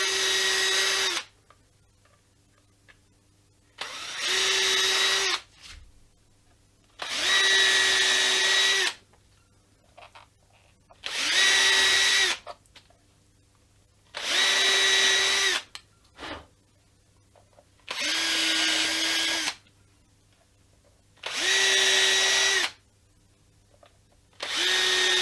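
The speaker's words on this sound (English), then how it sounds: "let's just go around and drill" A power drill boring screw holes in a wooden guitar body: eight loud whirring bursts of a few seconds each, separated by short quiet pauses, in a steady start-stop pattern.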